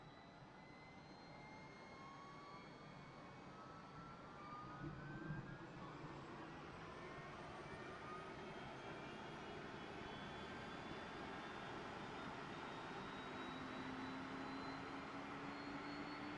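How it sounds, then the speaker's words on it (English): Auxiliary power unit of an Airbus A319 running in the X-Plane 12 flight simulator, a steady faint whining hum with slowly rising tonal whines, continuous and unbroken with no talking. "The APU is in the back of the aircraft here, and it is what supplies power to the aircraft while you're no longer on ground power."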